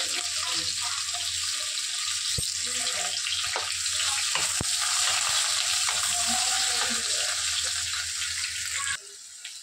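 Half a medium onion fries in hot oil in a pan for a drumstick-flower chorchori, giving a loud, continuous hiss with occasional soft knocks. The sizzle drops off abruptly near the end.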